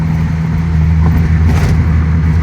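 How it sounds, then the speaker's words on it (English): A Dodge Omni GLHT, left sitting since 1994 and now running rough after 24 years, drives up a road with a loud, steady engine drone heard close throughout. "today, 24 years after sitting, it is now driving up this road"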